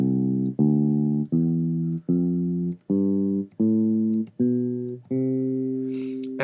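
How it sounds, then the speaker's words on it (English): A keyboard set to a bass sound steps up through a major scale, eight sustained deep notes evenly spaced and played alone, each one clear and full. "if I were to play notes on a piano or a keyboard with a bass sound on it, it would sound like this"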